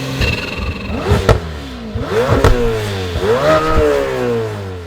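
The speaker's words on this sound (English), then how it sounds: "behind your head, you get a twin turbocharged V8" Lamborghini Huracán supercar with a twin-turbocharged V8 revving hard, three loud rising blips with sharp crackles between, close and mid-pitched, no talking.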